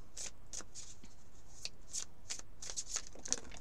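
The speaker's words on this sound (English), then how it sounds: "What I find when I'm shuffling and dealing with this deck" Lo Scarabeo tarot cards riffled and shuffled by hand in a quick, close series of crisp papery bursts, repeating steadily with no voices.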